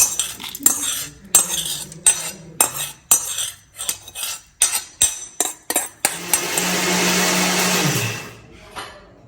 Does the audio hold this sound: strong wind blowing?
no